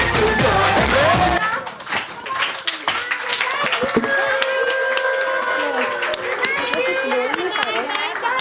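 Parents clap and cheer at a kids' annual day performance at a preschool, a steady wash of applause and crowd noise filling the room after a loud burst of music, with voices mixed in.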